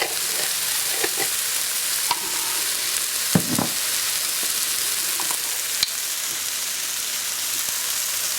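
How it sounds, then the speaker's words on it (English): Turmeric, pepper and other ground spices fry in a pan with a steady crackling sizzle, broken by a few soft stirring knocks and clinks. "Now let it fry"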